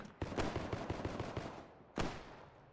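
SMG gunfire in a bridge-assault video game, with a rapid burst of evenly spaced shots for over a second, then a pause and one more sharp report, somewhat distant and muffled.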